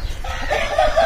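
Fighting roosters, game cocks kept for cockfights near Bhimavaram, cluck and call in a short, close, fairly loud burst, with a low rumble beneath.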